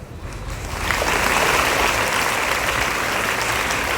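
Dense applause at a school Christmas celebration: hands clap softly at first, then build within a second into a loud, steady crowd ovation that holds to the end, with no speech.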